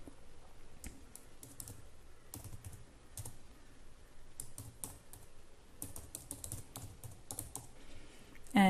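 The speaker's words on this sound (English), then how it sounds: "all I have done is the typing" Steady typing on a computer keyboard, with quick irregular key clicks close to the mic and a few louder keystrokes standing out, and no talking.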